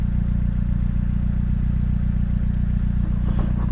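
A Honda Civic engine fitted with 1000cc LS injectors and a fresh tune idles close by, a loud, steady, even low rumble with a light mechanical clatter and no speech.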